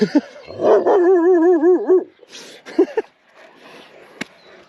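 A dog gives a couple of short barks, then a long wavering howl-like whine, followed by a few more sharp barks close by.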